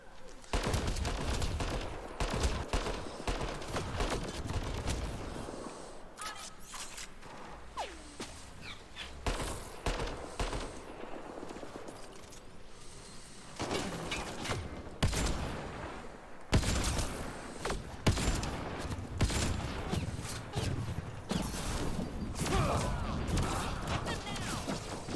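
Sniper rifle fire with incendiary ammo in the video game Mass Effect Andromeda: loud, sharp shots and bursts repeat almost continuously amid a chaotic battle, with brief lulls, and a voice speaks at times.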